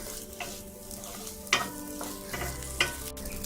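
Food stir-fried in a pan over a high flame, a steady sizzle under a few sharp spatula scrapes and clinks, with a low hum in the background and no talk.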